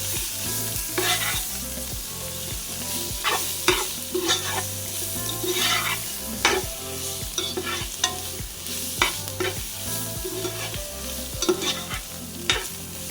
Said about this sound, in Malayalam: 1/2 ടീസ്പൂൺ കൂടി ചേർത്തിട്ട് ഇതും കൂടി ചേർത്ത് നന്നായിട്ട് വഴറ്റിയെടുക്കാം